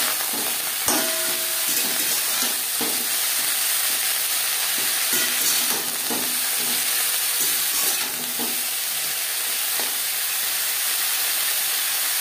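Paneer and broccoli frying in a pan while being stirred, a steady close sizzle and hiss with occasional scrapes and clinks of the utensil, no voices.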